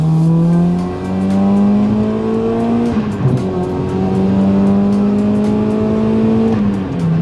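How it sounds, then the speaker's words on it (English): A supercharged Honda Accord Euro R engine pulls hard and loud up through the gears, with rising pitch, a brief dip at each shift, and a faint whoosh on top. "it doesn't have a supercharger whine, it has more of a turbo whoosh"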